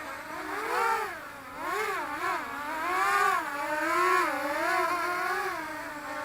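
A small Walkera Rodeo 150 night-vision drone flies outdoors in the evening with a buzzing, whining motor hum whose pitch swoops up and down as the throttle changes, steady and moderately close.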